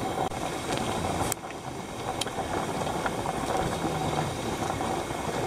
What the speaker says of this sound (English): It's boiling good inside, you can hear it boiling.